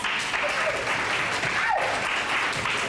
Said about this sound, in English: So give Sade a round of applause